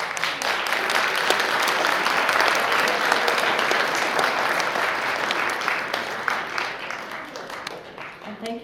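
Sustained applause from an audience at a naturalization ceremony, a dense, steady wash of many hands clapping that carries on for several seconds and thins slightly toward the end.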